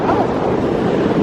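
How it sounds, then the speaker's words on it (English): Rough sea surf and strong wind at El Golfo on Lanzarote, a steady loud roar of crashing waves with heavy wind buffeting the microphone throughout. "Bit rough today. Rough sea."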